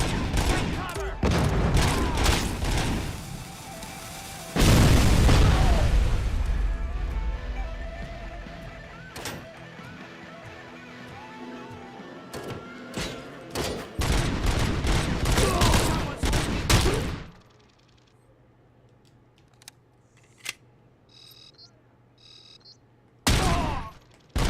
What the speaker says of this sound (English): Is that a grenade launcher? Yes, it is.